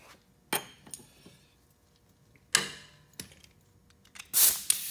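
A nut and 1 1/8 inch socket go onto a Ferris Z3X mower spindle, giving a few sharp, close metallic clinks and taps separated by quiet pauses, with a final louder clatter at the end.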